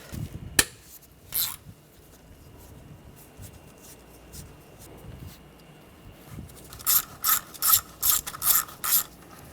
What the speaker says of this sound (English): Using a 11mm socket, take the bolts out for the intake plenum.